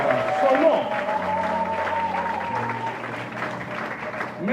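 A church congregation applauding throughout a French-language worship service, with steady sustained clapping from a large crowd, sung or spoken tones running underneath, and the applause swelling again at the very end.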